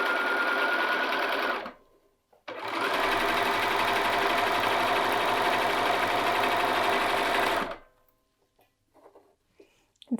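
A sewing machine chain-stitches pieces of shifty fabric one after another, whirring loudly and close for about a second and a half, pausing briefly, then running steadily for five more seconds before stopping into quiet handling noises.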